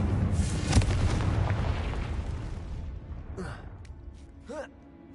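A Confringo spell explosion in Hogwarts Legacy, a loud booming blast that rumbles and fades over a few seconds, followed by short game effects and a faint vocal sound.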